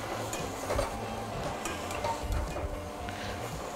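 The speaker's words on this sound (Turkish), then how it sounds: "Bir tutam daha karıştırıyoruz" Food stirred in a pot while cooking, close soft scraping and clinking over a low sizzle, no talk.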